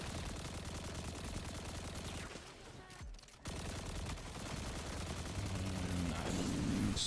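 Rapid gunfire from a weapon in Destiny 2: The Edge of Fate, played as a Hunter, rattles in dense, continuous bursts, pauses briefly mid-way, then resumes steadily alongside game music.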